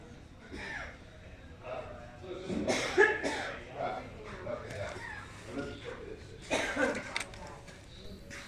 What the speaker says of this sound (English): Okay, someone's coughing.